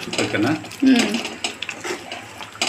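A spoon stirs semiya rava upma (vermicelli and semolina) in a pan at home, giving scattered metallic clinks and scrapes against the pan in irregular bursts, fairly close and moderately loud.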